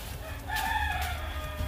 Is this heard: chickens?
yes